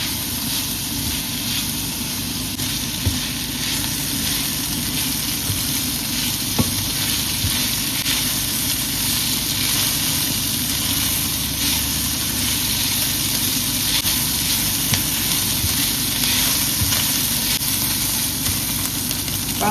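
Onions for Mexican-style chicken fajitas fry in a pan with a loud, steady, dense sizzle that holds unbroken throughout, with no voices over it.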